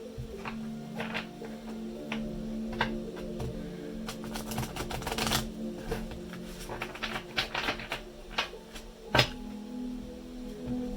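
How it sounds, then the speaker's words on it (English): Tarot cards being shuffled by hand for a love reading, giving soft repeated riffling and tapping bursts close by in a quiet room, with a sharper snap near the end. "Just one more shuffle."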